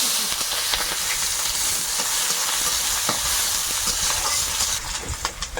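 Onion sizzling in hot oil with whole cumin seeds, a steady close frying hiss with scattered crackles and pops throughout, for a pumpkin-leaf roll and mung dal meal.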